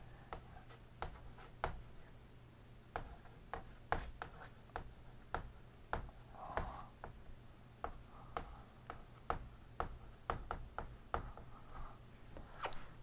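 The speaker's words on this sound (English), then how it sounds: "Let me write that." Pen or marker writing on a board, a string of short scratchy strokes and taps in an irregular rhythm, close and fairly quiet over a steady low hum, with no talking.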